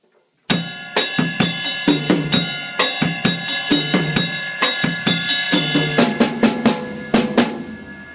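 Latin-style pattern on a drum kit with cross stick, toms and cowbell: bright metallic cowbell strokes ride over a syncopated pulse of rim clicks and low tom hits, played close and steady throughout.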